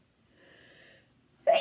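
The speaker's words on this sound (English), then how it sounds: "I'm about to sneeze." A single person's sneeze arrives as one sharp burst at the end, preceded by a soft, drawn-in breath that swells and fades just before it.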